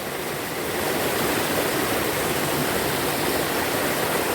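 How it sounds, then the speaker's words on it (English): A small river waterfall in Jamaica pours steadily, a loud, continuous broadband rush of falling water close by with no voices. "To the fall, the little waterfall."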